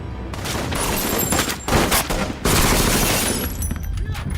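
Shootout from the film Sicario, with a red Impala in the fray: loud rapid bursts of automatic gunfire in dense volleys, broken by brief pauses and ending in scattered shots.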